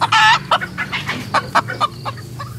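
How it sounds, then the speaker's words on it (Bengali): A chicken screeches loudly in a sharp opening squawk, then follows with a string of shorter, agitated clucks and cackles, close and clear against a faint background hum, as a sound effect in a horror audio drama. "একটা মুরগি ইতিমধ্যে প্রচণ্ড চেঁচিয়ে থেমে যায়।"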